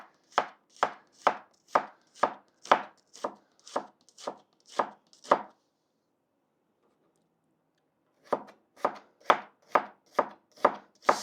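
A knife chops onions on a cutting board in a home kitchen, a quick steady run of sharp, close taps that stops for a few seconds and then resumes at the same rhythm.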